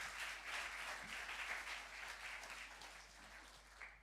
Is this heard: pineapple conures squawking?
no